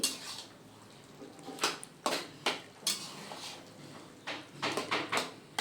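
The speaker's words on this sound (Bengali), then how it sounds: "শাকটাকে এইভাবে থেতো করে যেতে হবে আর হাই ফ্লেমে ফোটাতে থাকতে হবে" Kochu (taro) greens being mashed in a pan over a high flame: irregular metallic knocks and scrapes of a utensil against the pan, close and distinct, with quiet gaps between clusters of strikes.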